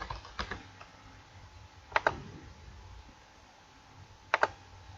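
Computer keyboard keys clatter during work in an Excel spreadsheet, coming in a few short bursts of quick clicks separated by quiet pauses, close and clear with no speech.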